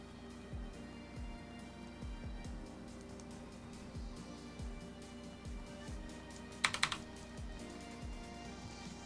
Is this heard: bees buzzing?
no